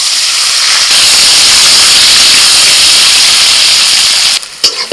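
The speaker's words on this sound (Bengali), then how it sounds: "করলা দিয়ে দিচ্ছি।" Lightly boiled bitter gourd hits hot oil in a pan, giving a loud, steady sizzle and hiss that carries on unbroken before dying down with a few clinks at the end.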